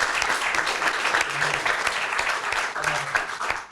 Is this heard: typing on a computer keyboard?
no